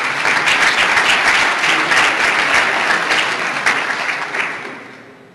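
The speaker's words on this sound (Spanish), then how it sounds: "ahí le mandamos un fuerte aplauso" Awards-event audience giving a strong round of applause for an absent project leader, loud steady clapping that gradually fades out.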